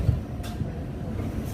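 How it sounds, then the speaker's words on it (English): Elevated D-Line subway train in Brooklyn, New York, heard from the front seat on a rainy day: a steady low rumble of the car with brief louder thumps at the start and end, no talking. "Elevated subway in Brooklyn,"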